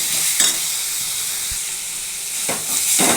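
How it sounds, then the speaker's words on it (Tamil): Tomatoes and onions sautéing in a pan for a mutton varuval gravy, a steady close sizzle and hiss with a few brief stirring scrapes, no talk. "தக்காளி போட்டு வதக்கிறேன்."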